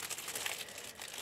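A gift package is unwrapped by hand, its plastic wrapping crinkling and rustling close up in quick, uneven bursts, fairly soft.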